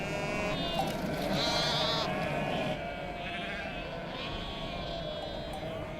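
Sheep in a flock guarded by dogs in a Middle Eastern desert bleat in several overlapping calls, clearest early on before softening against a steady background murmur.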